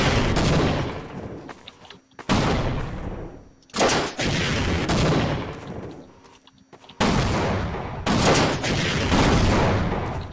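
Rocket launcher blasts in the game Half-Life, loud roaring explosions in repeated bursts with sudden onsets and rumbling tails, no talking.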